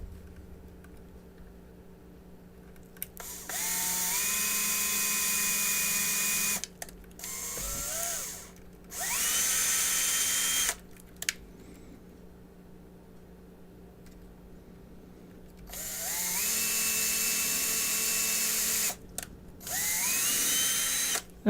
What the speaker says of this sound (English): Now I think that was the right size drill bit.